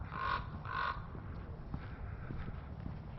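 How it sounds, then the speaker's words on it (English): Two hoarse, croaking calls come from a raven overhead in a natural park by a reservoir, fairly close, followed by quieter rustling and faint outdoor background noise. "There's a raven up there making noises."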